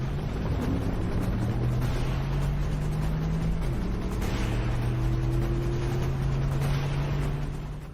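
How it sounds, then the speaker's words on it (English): A Porsche Cayenne accelerates hard at high speed around 195 on a bend, its engine droning steadily loud and close with a rising tone, wrapped in heavy wind and road roar throughout. "At this speed, acceleration is great."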